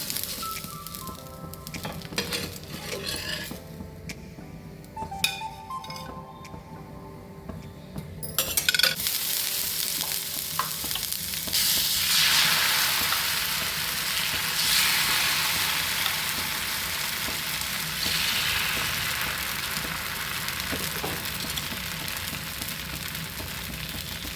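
Ragi dosa cooking in a spoonful of oil on a hot pan, a steady broadband sizzle that grows louder and denser partway through, with faint scraping at the start and no talk.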